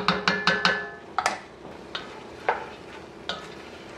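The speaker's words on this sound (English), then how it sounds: "deglaze the bottom of the pan there because all that garlic and onion and everything is down there" A utensil scrapes and stirs in a pan while deglazing the bottom with garlic and onion for peas and dumpling soup, a series of distinct scraping clicks over a faint steady sizzle, with no talking.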